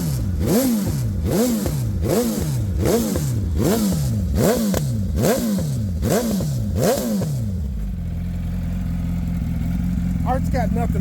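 An Aprilia RSV4 Factory Ultra Dark sport bike engine blips hard about nine times in quick succession, each rev rising sharply and falling back, then settling into a steady loud idle with faint chatter near the end.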